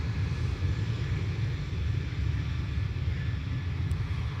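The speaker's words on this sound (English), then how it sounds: "Pegasus told to line up while Aer Lingus departs to Heathrow" Aer Lingus airliner departing Dublin Airport for Heathrow, a steady deep engine roar with heavy low rumble holding at constant loudness throughout, no voices.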